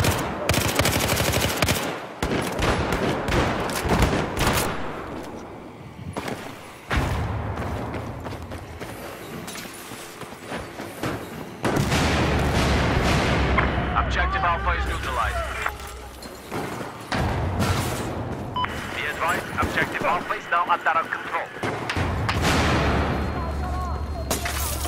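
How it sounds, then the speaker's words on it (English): Gunfire in a Battlefield 4 multiplayer match on PS4, with repeated short bursts and heavy rapid shots in clusters, some loud and close and others more distant, mixed with explosions and battle noise. "Burst firing is very effective, like if you're far away from someone."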